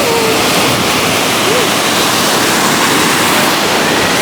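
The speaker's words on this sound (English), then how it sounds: "Waves are so nice." Ocean waves wash onto a sandy beach in a steady, loud broadband roar, constant and close throughout with no distinct breaks.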